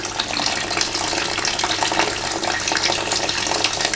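Water runs out steadily from a radiator's opened air vent, a continuous rushing splash.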